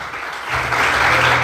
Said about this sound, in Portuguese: Vamos aplaudir o Senhor mais forte.